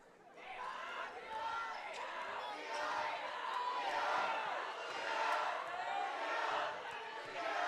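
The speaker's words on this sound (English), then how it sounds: "the crowd's still calling for defense here" Home crowd at a boys' 2A high school basketball game chanting for defense, a steady roar of many voices filling the gym with rhythmic swells throughout.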